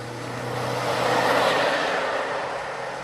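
A car speeds off as a radio drama sound effect, its engine swelling into a loud, close roar that peaks midway and then holds steady before easing slightly.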